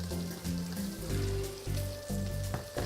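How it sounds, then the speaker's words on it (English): Mushrooms sautéing in garlic butter over medium-high heat give a steady close sizzle and crackle, with brief surges in the frying noise; no one speaks. "Putting the mushroom in."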